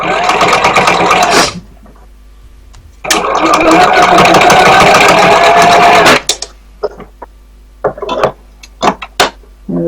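A sewing machine stitches a cloth face mask in two loud, close bursts, one short and one about three seconds long, followed by scattered clicks and handling noises.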